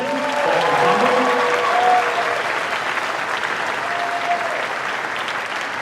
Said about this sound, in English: Everybody, a big round of applause for Olivia Haggerty one more time.